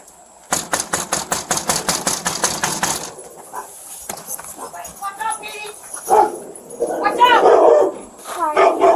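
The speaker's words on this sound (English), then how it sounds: "Make sure the dog doesn't come out." A dog barks rapidly and repeatedly near a house during a police call, a fast burst of loud, close barks that stops abruptly, followed by voices talking and more muffled sounds.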